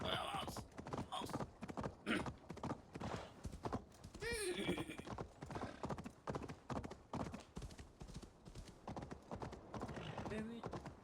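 Galloping horse hooves in Assassin's Creed Valhalla, a fast rhythmic clip-clop running throughout, with a brief whinny and a person talking over it.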